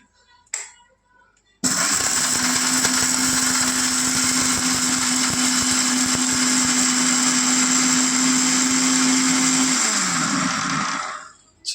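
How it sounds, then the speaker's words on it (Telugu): A kitchen mixer grinder runs at full speed on gongura chutney paste, a loud steady whirring drone with a high whine that lasts about ten seconds and then winds down, after a short knock and brief silence. "మిక్సీలో ఈ మిశ్రమాన్ని మనం చక్కగా ఇలా వేసుకున్నాం అన్నమాట"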